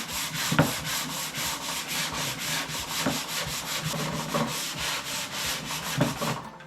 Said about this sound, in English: I just took the sanding block, and the last couple I've been just using this